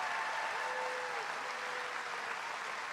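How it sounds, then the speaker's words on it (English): An outdoor campaign rally crowd in Leetonia applauds, a steady, fairly faint wash of clapping heard from a distance, with a brief whistle or cheer tone rising above it. "would you give these bears a round of applause for being out tonight?"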